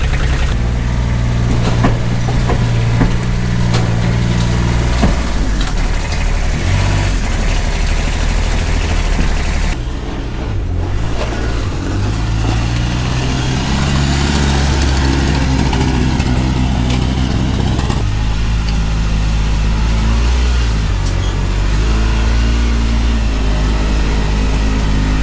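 Diesel engine of a piece of industrial equipment running loud and close, a deep steady rumble with a brief dip in the middle before settling back into a constant drone.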